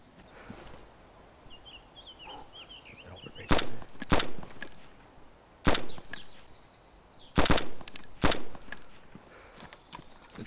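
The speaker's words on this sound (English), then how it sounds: "Oh, we're getting shot at." Gunfire in the video game DayZ: several sharp, loud shots in irregular bursts, some doubled, ringing over a low ambient bed with faint birdsong, mostly without talk.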